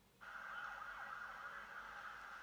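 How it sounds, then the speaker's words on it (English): Police sirens as a sound effect at the end of a song, a wailing electronic tone that starts abruptly and holds steady and fairly loud, sweeping slowly in pitch, heard alone without speech. "police sirens go off, which obviously subconsciously, you know, suggests danger to us"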